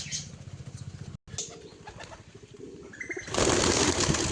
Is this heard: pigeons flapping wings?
yes